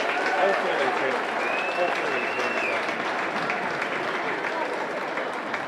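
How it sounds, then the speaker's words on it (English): A crowd at a school wrestling event gives a steady, dense round of applause that fills the gym at an even level. "Round of applause there is appropriate,"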